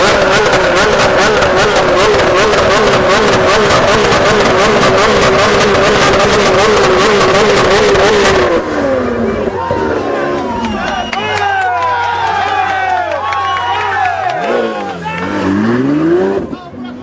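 Sports cars at a Cars & Coffee meet in Brescia, one accelerating hard with a loud, brutal roar, then passing engine sweeps and revs fading with a cheering crowd and voices around.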